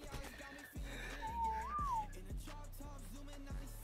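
A whistle command to tamed animals in the video game ARK: a single rising-and-falling whistled tone over a steady, rhythmic game background.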